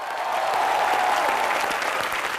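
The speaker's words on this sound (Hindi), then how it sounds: "अरे अरे अरे अरे तालियां।" A studio audience at a comedy show breaks into steady, dense applause, loud and sustained with no pauses.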